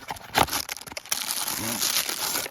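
A simple cardboard box holding a Grand Way 027 UB scout knife is opened, giving short crinkling and rustling of cardboard and packaging close by, with a little faint background sound.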